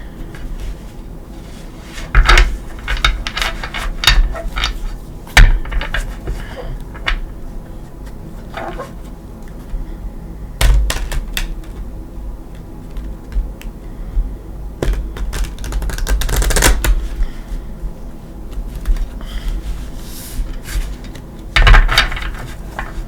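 New, stiff tarot cards are shuffled in uneven bursts of crisp riffling and clattering snaps, separated by short pauses and soft handling noises.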